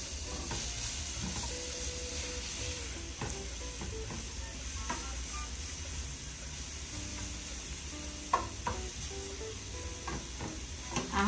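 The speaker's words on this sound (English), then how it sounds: "I'm gonna saute this for for about 1 to 2 minutes because I don't want it to be mushy." Food sauteed in a pan for a vegan tuna salad wrap sizzles steadily at low volume, with occasional clicks and scrapes from stirring and no talking.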